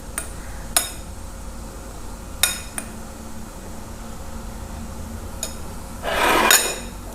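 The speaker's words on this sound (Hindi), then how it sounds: "इसे मिक्स कर लेंगे।" A spoon clinks against a bowl as salt and turmeric are stirred in, a few sharp taps spaced apart, then a brief louder burst of scraping near the end.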